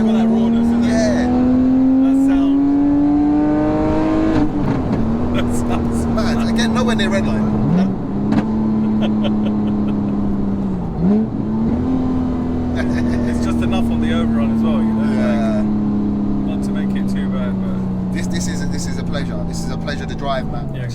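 A Porsche 911 of the 997 generation drones along with a strong, steady engine note that climbs, then drops briefly at a few gear changes. Voices talk over it throughout.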